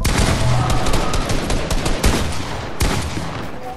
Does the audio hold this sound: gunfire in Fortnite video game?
yes